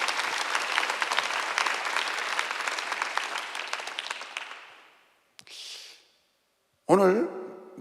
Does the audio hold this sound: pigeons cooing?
no